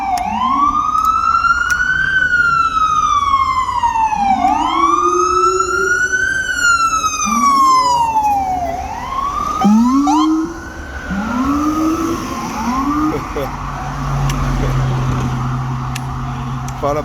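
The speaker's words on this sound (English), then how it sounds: "You know, all the sirens." Several emergency vehicle sirens wail loudly in a street as they pass, rising and falling tones overlapping one after another, with traffic rumble underneath and a voice speaking over them.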